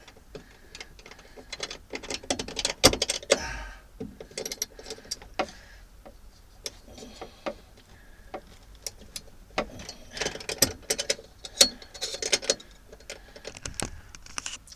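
A ratchet turns a nut while building a rock and roll bed for a VW T2 van, giving bursts of sharp, quick clicks that start and stop irregularly, close up, with no talking.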